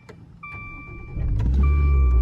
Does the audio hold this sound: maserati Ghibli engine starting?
yes